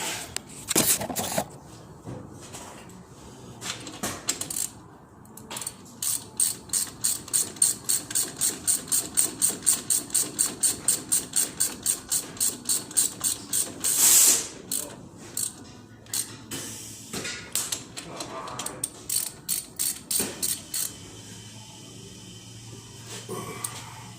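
Ratchet tightening the brake caliper bolts on a 2017 Dodge 2500 heavy duty Cummins turbo diesel, with long runs of rapid, evenly spaced clicks close by and brief pauses between strokes.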